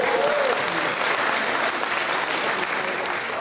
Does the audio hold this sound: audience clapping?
yes